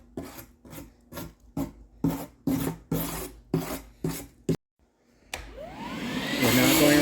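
A brush scrubs rust around the gasket sealing area of a Chevrolet Silverado fuel tank in about nine rhythmic rasping strokes, then after a brief pause a vacuum starts up and whines steadily louder.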